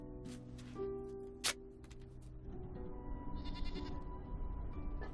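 Goats in a desert bleat a few times, with one fairly close cry among fainter calls, over a steady low background hum and some scattered ticking sounds.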